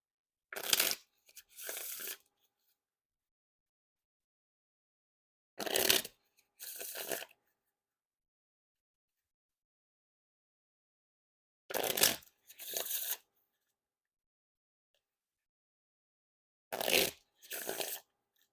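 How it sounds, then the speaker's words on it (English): Rise brand playing cards being riffle and bridge shuffled, four separate rounds each heard as a crisp burst of fluttering card riffle followed by a softer bridging cascade, close and alone with quiet pauses between. "Now time for the Riffle Shuffle or Bridge Shuffle."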